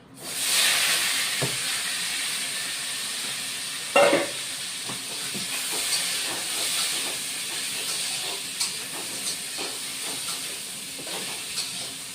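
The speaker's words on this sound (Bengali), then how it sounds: "এবার আলু বেগুন মিষ্টি কুমড়ো ঢেলে দিচ্ছি" Potato, eggplant and pumpkin hit hot oil in a pan for a vegetarian drumstick curry, setting off a loud, steady sizzling hiss with a few faint clinks and stirs.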